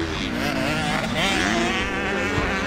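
A Yamaha 450 motocross motorcycle rides on a dirt track, its engine buzzing loud and raspy with rising and falling revs as it accelerates, with a voice faintly underneath.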